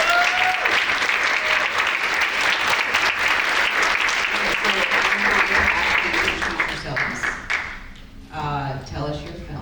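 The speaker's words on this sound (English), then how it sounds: "Congratulations. Nice job. Round of applause." An audience at a short-film Q&A screening applauds the filmmakers with sustained crowd clapping that fades out near the end, where a voice begins talking.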